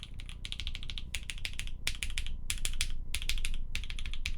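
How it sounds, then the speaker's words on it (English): Rapid typing on a linear mechanical keyboard, dense clacky switch noise in quick bursts with short pauses, close and fairly loud, with some dull desk thump beneath. "The sound of a good linear board."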